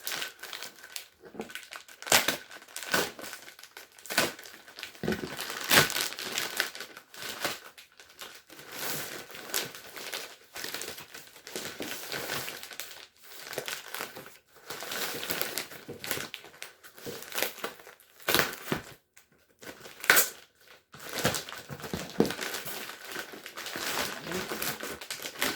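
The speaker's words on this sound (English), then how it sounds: "We'll tear it open and show you guys the packaging real quick." A FedEx shipping package is torn open by hand, with close, loud crinkling, crunching and ripping of wrapping in uneven bursts and brief pauses.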